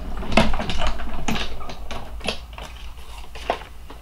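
Scissors snip by hand through paper, cutting out detailed leaf shapes in a quick run of short, close, crisp cuts that gradually thin out toward the end.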